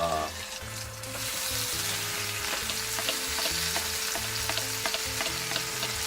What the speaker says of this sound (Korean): 기름 좀 두른 다음에 이제 스테이크를 볶도록 하겠습니다